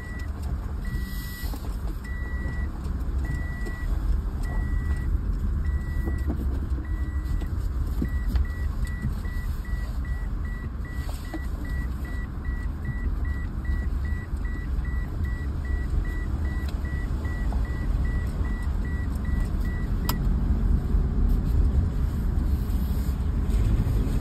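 Car rolling slowly along a flooded, potholed road on St. Croix: a steady low engine and tyre rumble continues throughout, with a repeating electronic beep running through the first half.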